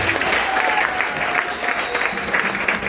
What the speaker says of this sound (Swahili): So mpigie Yesu makofi mazuri.